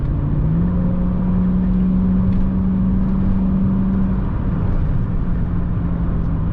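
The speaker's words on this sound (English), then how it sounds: "We're in the SLK 55, you know, my little AMG Miata, and yeah, let's go for a drive" A Mercedes-AMG SLK 55 drives off with a loud, steady engine drone that rises slightly in pitch and is heard from inside the car, with no voices.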